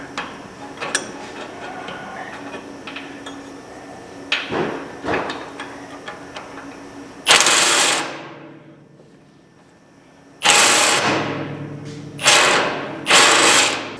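A ratchet socket wrench backs nuts off a bolt, giving quick runs of mechanical clicks followed by a few loud, sharp bursts of metal noise that fade after each stroke.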